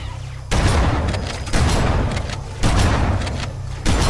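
Heavy shotgun blasts from the video game Halo: Combat Evolved, three loud booming shots spaced about a second apart, each with a dense lingering roar and low rumble.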